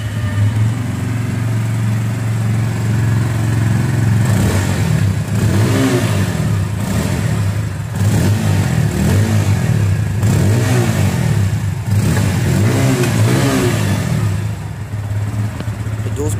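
A 2023 Bajaj Pulsar P150 base model motorcycle starts on its self-starter and settles into a loud, close idle, with repeated throttle blips rising and falling over the steady engine note.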